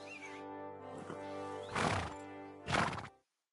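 A horse whinnies in a video game in a long, wavering call that ends with two sharp, loud bursts, close and clear with no talking.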